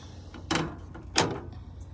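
Two distinct clunks in quick succession, a drawer or panel being folded up and shut inside an overlanding vehicle, fairly close and sharp with quiet rustling between them and no speech.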